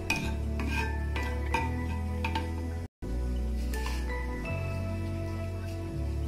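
Whole cumin seeds hitting hot oil in a pan while cooking mocha chingri, banana flower with prawn: a steady low sizzle under a hum, with scattered clinks and scrapes of a utensil against the pan and a brief cut partway through.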